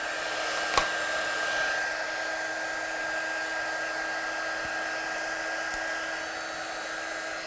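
A heat embossing gun warms up with a steady, even whirring hiss that holds throughout, with a faint click near the start.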